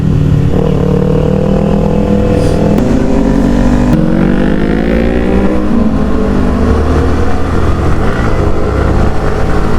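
A Kawasaki Ninja superbike on a group breakfast ride at Beiyi sweeps past with a loud, steady engine roar whose pitch climbs and shifts as it goes by, other traffic blending in underneath.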